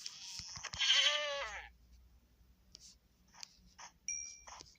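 A couple of short, nasal Minecraft goat bleats, followed by fainter scattered clicks and chimes in a quiet, game-like setting.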